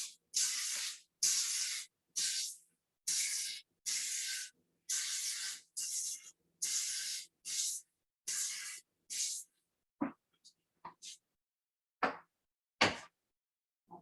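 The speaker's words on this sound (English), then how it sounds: "I'm gonna spray the tins again, or the liners" Cooking spray hisses onto muffin tin liners in about ten short, even bursts, followed by a few faint clicks and light taps.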